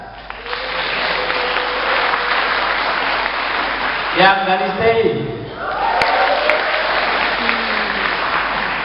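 Students in a lecture hall applaud steadily during a technopreneurship talk, with a louder surge of clapping and cheering in the middle while a speaker's voice comes through over it.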